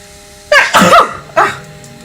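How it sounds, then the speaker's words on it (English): A single sneeze in a Sims 4 game: a short rising intake followed by a sharp, loud burst, then a softer second huff, close and alone with no talk. "I'm about to sneeze"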